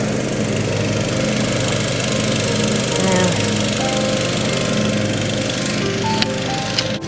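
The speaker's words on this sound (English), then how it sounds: "she's out there mowing the grass" A lawn mower runs steadily as grass is cut, its engine droning loud and continuous throughout with no break, a few faint clicks near the end.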